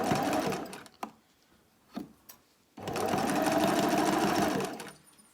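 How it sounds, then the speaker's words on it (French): Domestic sewing machine stitching a zigzag seam on a fabric Covid face mask, a close whirring motor run, a pause with a few light clicks and knocks, then a longer steady burst of stitching. "Je couds donc ma petite fente avec un petit point zigzag à l'intérieur."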